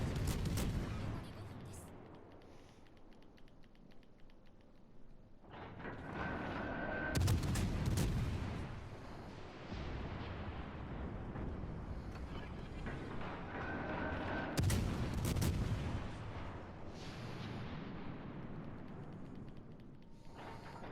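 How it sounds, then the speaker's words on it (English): HMS Belfast's naval guns shell a target in a warship game, several heavy booms spaced seconds apart, each with a long rumbling decay, loud and close with no talk over them. "I'm just going to continue shelling."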